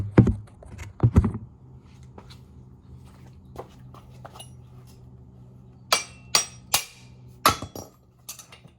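Sharp metallic hammer strikes tapping out the wheel axle of a 250R motorcycle, a quick double burst near the start then a series of single taps later, with quieter knocks in between.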